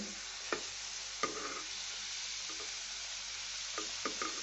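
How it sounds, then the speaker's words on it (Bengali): Flattened-rice raspuli frying in hot oil, a continuous bubbling sizzle with a few distinct clicks and scrapes of a spoon against the pan, no voices. "আমি এইভাবে সবগুলো ভেজে তুলে নেব"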